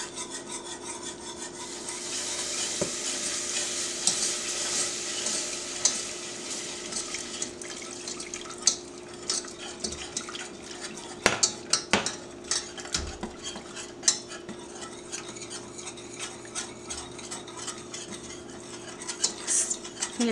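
A whisk or spoon works milk mixture into a roux in a pot for lobster cutlets, giving steady scraping and rubbing with light clinks against the pan, fairly faint and close, with no speech.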